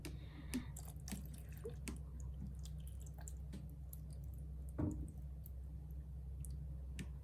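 Faint water drips and soft squishy clicks come intermittently over a low steady hum, with one fuller gurgling splash midway, as a Mutsu Water Looper toy is filled with water.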